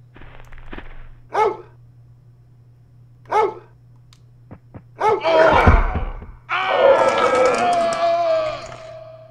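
A dog barking in the Clock Tower 2 video game, several separate sharp barks spaced out early on, then louder bursts of barking over a constant low hum in the game's soundtrack.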